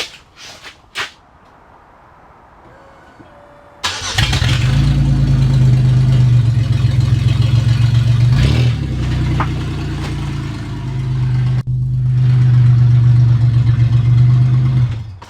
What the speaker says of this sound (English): Do a little startup and pull her out of the garage real quick.